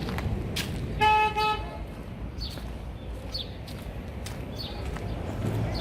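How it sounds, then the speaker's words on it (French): A car horn gives one short toot, followed by steady street and traffic noise with faint distant honks, on a street by the beach in Ecuador. "là on a entendu un klaxon ici"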